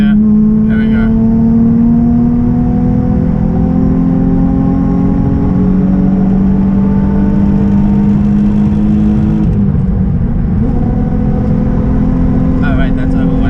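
Nissan 350Z engine pulling hard in 4th gear, a loud steady drone climbing gradually in pitch with a brief dip near the end, heard from inside the car over road noise with people talking.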